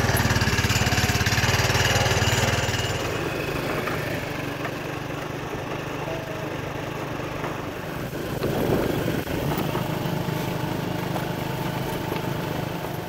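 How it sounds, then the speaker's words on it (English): A small scooter engine runs through a ride in winter, a loud buzzing drone at first that drops to a steadier, quieter hum with some wind rush and rough patches, and no talking. "I'm gonna go for a scooter ride."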